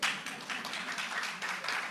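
Scattered audience applause at a policy dialogue on entrepreneurship, a short burst of many hands clapping at moderate distance, steady and fairly loud for two seconds with little speech.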